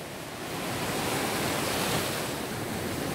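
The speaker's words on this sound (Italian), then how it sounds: "Anche se il mare è agitato." Rough, choppy sea waves break steadily on a beach, a continuous loud wash of surf with some wind, and no voices over it.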